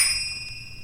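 A bell rings with a bright sustained metallic tone of several steady overtones, fairly soft and alone, the ring holding evenly through a brief moment with no voices.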